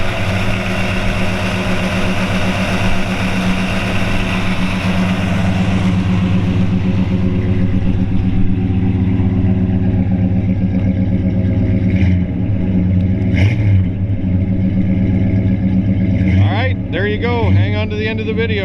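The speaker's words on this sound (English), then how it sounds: "he's going to fire it up, and we'll go back and let you hear it run" A 1940 Ford Deluxe Coupe with a 350 V8 idles loud and close, a steady deep rumble that holds throughout with a slight rev near the end, while someone talks over it.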